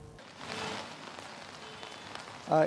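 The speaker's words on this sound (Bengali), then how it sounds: "এখন মুষলধারে বৃষ্টি হচ্ছে" Heavy rain falls in Chittagong, a steady broadband hiss of drops on surfaces close by, with a brief louder patter at the end.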